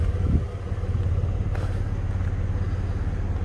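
A 2006 Dodge Ram 1500 quad cab pickup with a 3.7 Magnum V6 idles in a low steady rumble, with one brief rise in engine note partway through and no voices.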